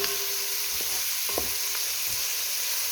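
Meat fries in a pan with a steady loud sizzle while it is stirred, occasional soft scrapes and knocks of the utensil breaking through close to the pan.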